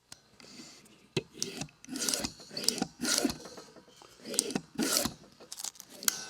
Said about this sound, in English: we gouge some cane